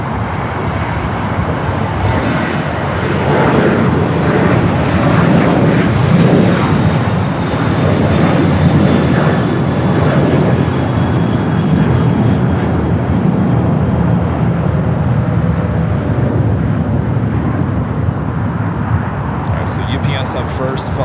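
A UPS heavy jet and an Air France A350 approach LAX's south side, a loud continuous jet-engine rumble swelling and holding for the whole span, with voices over the engine noise.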